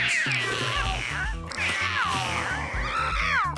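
Several cats meow and caterwaul in a series of loud, drawn-out wavering cries, close and overlapping, with no talk over them.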